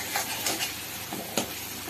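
Spices and cumin seeds sautéed in oil in a frying pan, a close, continuous sizzle broken by a few short scraping stirs.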